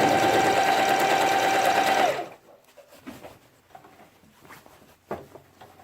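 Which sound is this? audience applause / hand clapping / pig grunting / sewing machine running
sewing machine running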